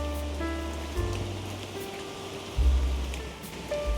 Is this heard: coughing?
no